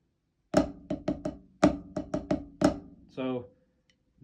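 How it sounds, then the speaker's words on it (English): Three groups of flam drags are played on a drum, each an accented flam and then quick open drag strokes, close and clear. A short spoken word follows. "And then the flam drag."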